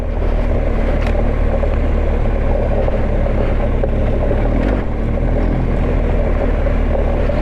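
A large, heavy motorcycle ridden on a mountain route toward a hut in Bulgaria, a loud continuous low engine rumble that holds steady throughout without speech.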